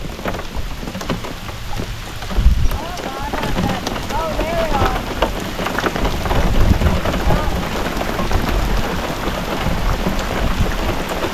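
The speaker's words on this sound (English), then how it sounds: "I think it's raining." Steady rain falls during a thunderstorm outdoors, with continuous hiss and patter, low rumbles of thunder and a gusty undertone. A few faint voices come through in the background.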